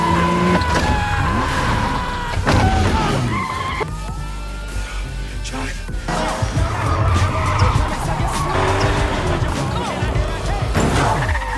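In a movie police chase, a speeding Porsche roars with engine noise, repeated tire squeals and skids, loud and continuous, while a narrator's voice speaks over the action.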